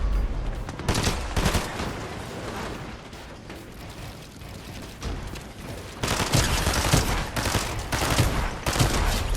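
Dense, loud gunfire from a shotgun and an SMG in the Fortnite video game comes in rapid bursts with little pause and builds in intensity toward the end.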